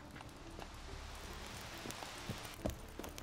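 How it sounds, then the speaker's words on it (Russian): Soft rain falls steadily in the video game The Witcher 3: Wild Hunt, a quiet hiss of drops on the ground with a few faint footsteps or hoof taps scattered through it. "Дождь идет."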